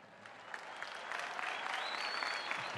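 A large crowd applauds the graduating class at the Ohio State University spring 2024 commencement, a broad, distant wash of clapping that swells slightly louder toward the end, with faint cheers and whistles over it.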